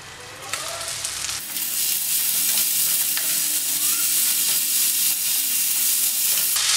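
Ridge gourd and onion sauté in a pan for peechinga mezhukkupuratti: a quieter hiss at first, then a loud, sustained sizzle with stirring scrapes and crackles, close up and with no speech.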